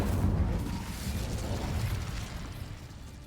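An Incendio fire spell cast in Hogwarts Legacy erupts as a deep, rumbling whoosh of flame. A burst at the start rolls on for a few seconds and slowly fades, with no voices over it.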